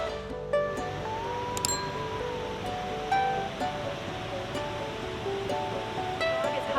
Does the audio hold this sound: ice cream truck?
no